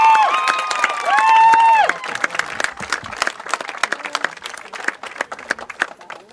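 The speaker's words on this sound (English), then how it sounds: "Please join me in a round of applause for Juan Mariko" Spectators at a high school football game applaud a player as he is introduced. A loud whistle-like tone sounds over the start, then scattered, uneven clapping from a modest crowd thins out into sparse individual claps.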